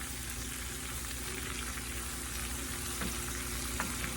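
Fresh garden squash and vegetables sizzle in a skillet, a close, even frying hiss that runs steady with a few soft pops near the end.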